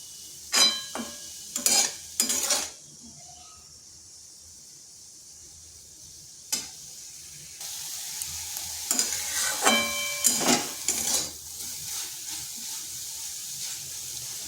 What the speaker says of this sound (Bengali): এই জলটা কড়াইয়ের মধ্যে শুকনো করে নেব।